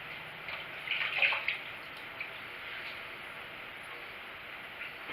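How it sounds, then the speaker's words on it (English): Water splashes and trickles close by as a face is wetted at a sink for a second pass with a Van der Hagen safety razor, a brief burst of splashing settling into a faint steady running. "Getting the face wet,"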